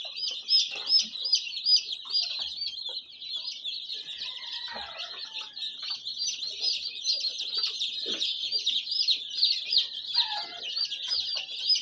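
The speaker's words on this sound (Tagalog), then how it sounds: "ito mga boss yung mga sisiw nyo" Newly hatched chicks peeping continuously in a dense chorus of high, thin calls, fairly close and steady throughout, with occasional soft clucks and shuffling noises underneath.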